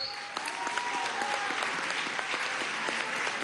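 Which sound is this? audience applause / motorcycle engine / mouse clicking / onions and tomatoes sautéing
audience applause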